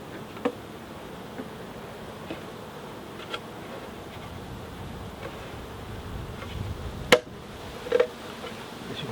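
Honey bees buzz around a syrup feeder at a hive, a soft steady hum close by with a few sharp clicks and knocks of handling, no talking.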